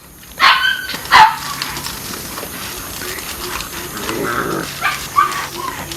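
A dog barks a few sharp times, a pair of loud barks early and a couple more later, over a low background hum.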